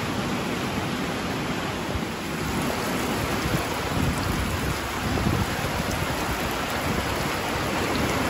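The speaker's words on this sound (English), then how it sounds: "Here comes the rain." Heavy rain pours down steadily in a dense, unbroken roar, close and loud throughout with no other sounds standing out.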